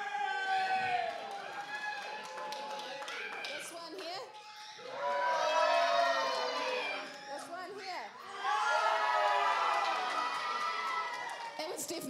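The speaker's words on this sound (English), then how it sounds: "you've got to cheer the loudest for the one you want" A church congregation, children's voices prominent, cheers and shouts loudly for a team in three long waves. Each swell holds for a few seconds and dips briefly between rounds, filling the room.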